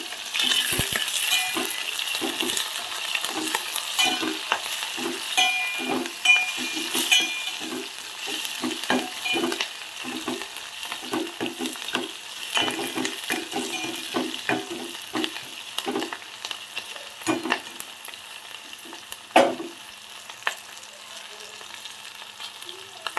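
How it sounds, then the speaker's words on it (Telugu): Green chillies fry and hiss in a pan while a spoon stirs them with steady scraping strokes and light clinks, close and continuous, with no talking. "ఇందులో పచ్చిమిరపకాయలు వేస్తామండి."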